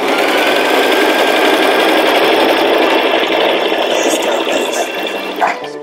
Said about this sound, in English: you can step on the pedal, the sewing pedal, and you can make the machine go like so.